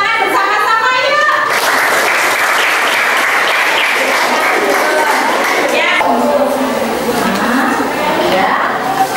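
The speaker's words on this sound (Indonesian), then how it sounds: "Ya kita kasih hadiah tepuk tangan bersama-sama yuk." Schoolchildren in a classroom clapping together in a loud, sustained burst of applause that runs through the whole stretch, dense and close, with some young voices mixed in.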